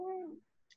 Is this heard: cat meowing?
yes